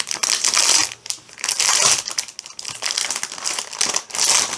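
A parcel of cross-stitch supplies is torn open by hand, with loud, close crinkling and crumpling of packaging in bursts over a few seconds and no voices.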